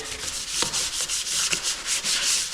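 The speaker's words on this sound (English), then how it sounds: "I'm just gonna go through and give this a nice little sanding" Close, steady scratchy rubbing of 180-grit sandpaper on wooden trailer trim in short back-and-forth hand strokes, continuous and fairly soft, with no voices.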